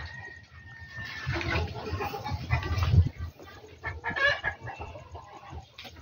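Geese in a pen on a farm honk and cackle in a busy, overlapping jumble at moderate distance, while people talk faintly in the background.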